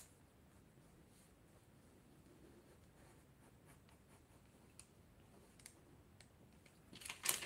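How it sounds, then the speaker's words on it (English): Pencil retracing a pattern line on tracing paper for a reindeer pouch, a soft continuous scratchy stroke with faint ticks, quiet and close, ending in a louder rustle of paper. "I'm going to show you how to do it on a tracing paper like this. So I'm going to retrace"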